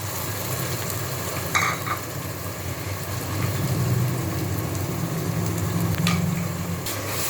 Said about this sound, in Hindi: इसमें हम जिंजर, गार्लिक और ग्रीन चिली पेस्ट ऐड कर देंगे और साथ साथ हम स्पाइसेस भी ऐड कर देंगे और टमेटोज भी